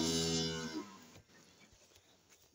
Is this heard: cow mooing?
yes